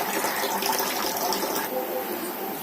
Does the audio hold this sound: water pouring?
yes